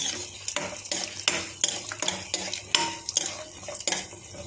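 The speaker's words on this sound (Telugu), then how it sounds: "కొంచెం నెయ్యి వేసాను జీడిపప్పు వేపుకున్నాం జీడిపప్పు కిస్మిస్ వేస్తున్నాను ఫస్ట్" Cashews and raisins frying in a little ghee, with rhythmic metal spoon strokes scraping and tapping the pan over a soft sizzle, close up and without speech.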